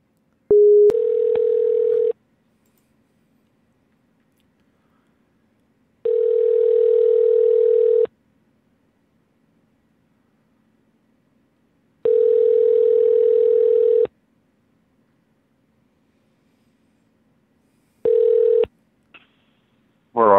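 A telephone ringback tone sounds while a prank call is placed, four long steady electronic tones in a regular cycle with silent gaps between, ending in a brief click and a voice picking up.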